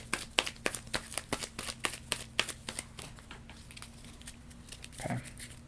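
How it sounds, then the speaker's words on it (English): Rapid riffling of playing cards in quick bursts, crisp papery clicks repeating for several seconds, then a short softer shuffle near the end. "we're going to shuffle these both back into the deck"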